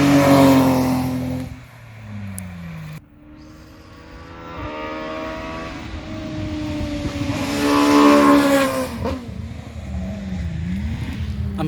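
Fast cars racing along the road outside a house, engines roaring as they sweep past in loud whooshes that swell and fade, with a brief voice nearby.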